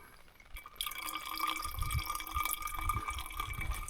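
Lake water dripping and trickling through a filter for drinking at a Swedish lakeside camp, a steady close patter of drops and small splashes that starts quietly and builds, with no talking.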